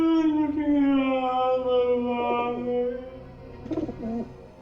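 Pigeons coo in a few soft, rounded phrases at close range, with a steady low hum underneath and brief muffled rustles midway and near the end.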